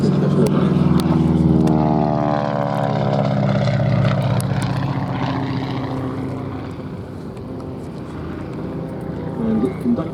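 Replica Mystery Ship racing plane flying at an air show, a loud propeller drone with a falling pitch as it passes, then fading into a more distant roar.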